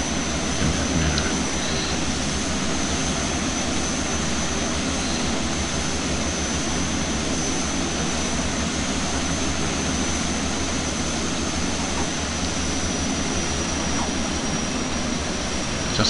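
A fixed-wing aircraft engine roars steadily and loudly throughout a flight to Syangboche in the Himalaya, a constant unbroken drone with no talk over it.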